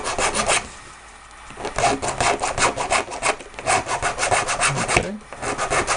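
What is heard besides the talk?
sanding a printed hand part with a jeweler's file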